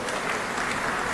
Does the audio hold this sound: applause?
yes